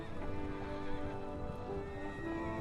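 A horse neighs and whinnies in the medieval video game Kingdom Come: Deliverance 2, a drawn-out call with steady game ambience underneath and no talking.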